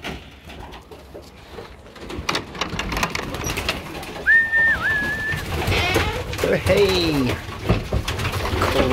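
Pigeons coo in low, rolling bursts alongside other bird calls, close by, while someone speaks briefly over them.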